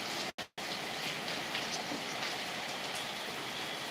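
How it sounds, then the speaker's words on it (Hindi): Heavy monsoon-style rain pouring down, a loud, continuous wash of hissing noise with a brief dropout near the start. "बारिश देखिए एकदम झमाझम हो रहा है ज़बरदस्त तरीके से।"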